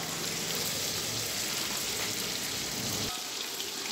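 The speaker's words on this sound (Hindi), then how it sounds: "ये देखें, हमारा गोश्त फ्राई हो रहा है" Chicken pieces fry steadily in hot oil in a pot, making a dense, even sizzle that stays loud and close for the whole stretch and eases slightly near the end, with no voices over it.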